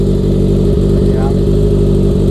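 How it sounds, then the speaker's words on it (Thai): Honda CB650F motorcycle engine running steadily at idle, a loud continuous low-pitched drone with close, dense rumble and no talk over it. "เสียงเครื่องยนต์ก็ยังแน่นๆนะครับ"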